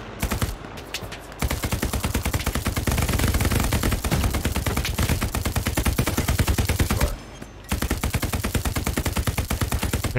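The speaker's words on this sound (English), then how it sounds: "See where I'm shooting right here?" Sustained automatic gunfire from the Hell Let Loose war game hammers on in rapid, continuous bursts, loud and close, with one brief pause before the firing resumes.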